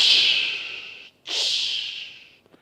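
A voice imitates the hiss of water poured onto hot rocks in a sweat lodge: two long, breathy hissing exhalations, close and fairly loud, separated by a brief pause, each slowly fading.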